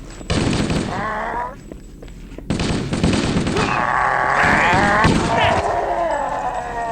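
Rapid gunfire from a video game played on a Steam Deck, dense bursts of shots crackling over loud music and game effects, with a voice shouting over it.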